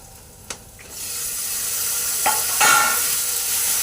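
About a kilo of chopped tomatoes hits hot oil in a pan of curry: a couple of light clinks, then a loud, steady sizzle that rises and holds, close up, with no talking.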